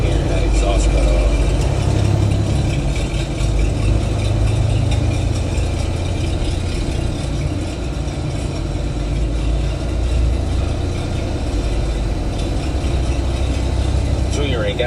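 A semi truck engine rumbling at idle with its exhaust cut off, a loud, steady, raw low drone filling the whole stretch, with someone talking over it.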